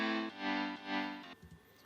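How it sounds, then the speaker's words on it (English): A Logic piano tone with boosted highs, voiced like a dance piano, plays a few bright sustained chords that swell and fade, faint and brief, with no voices. "So first we have a piano from Logic, and that sounds like this."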